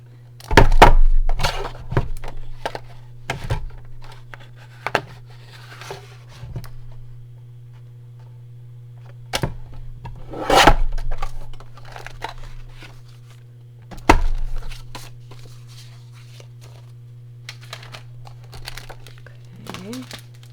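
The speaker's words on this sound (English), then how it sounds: "I'm just going to cut this sheet in half." A Poly-Glaze foiling sheet is cut in half, giving a few sharp crinkling snips and rustles spaced irregularly over a steady low hum, with someone talking in between.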